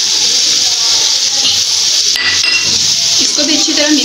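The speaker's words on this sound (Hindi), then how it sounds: "इसको भी अच्छी तरह मिक्स कर लेंगे।" Cabbage and mixed vegetables for pulao are stirred in a hot pan, making a loud, continuous sizzling hiss with soft scrapes of the spoon and a brief voice near the end.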